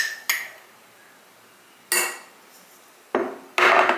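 A spoon stirring chia seeds into milk in a glass, giving four sharp clinks of metal on glass spaced irregularly, close and distinct, the last ones nearly back-to-back.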